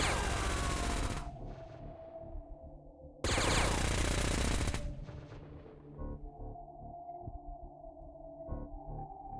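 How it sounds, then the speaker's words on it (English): Sten submachine gun firing in the X-Com Files game: two loud, dense bursts of automatic fire, the first lasting about a second and the second a bit longer, with quieter game ambience between and after. "Double barrel Sten. I think that's a Sten or a machine gun of some sort."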